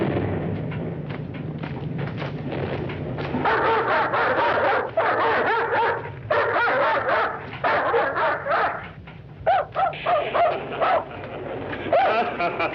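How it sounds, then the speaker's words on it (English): A dog barks and yips repeatedly in a dark, rain-threatened outdoor scene from the Ed Wood film Venus Flytrap, loud bursts in uneven runs with whimpering howls between, close and dominant, no speech. "take that howling mutt with him"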